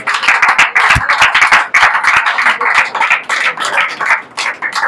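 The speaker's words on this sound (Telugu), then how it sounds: "చప్పట్లు కొట్టాలి." A church congregation claps together during a pastor's sermon, a dense, steady burst of many hands beating in loose unison for several seconds, loud and close with no voices over it.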